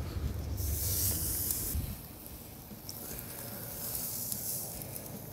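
Meat searing in a hot pan, a steady broadband hiss and sizzle that runs throughout, with a louder burst in the first two seconds and softer crackle afterward, with no voices.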